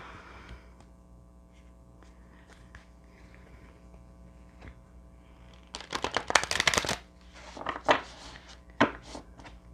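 Tarot cards shuffled and drawn by hand, a quiet steady hum at first, then a loud burst of riffling and flicking cards followed by a few sharper snaps as cards are laid down, close up.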